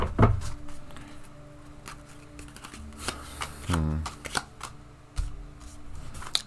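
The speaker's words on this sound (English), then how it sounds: "Sorry about the noise, the shuffling." A deck of tarot cards being shuffled nearby, soft papery riffles and taps in short bursts over a quiet room.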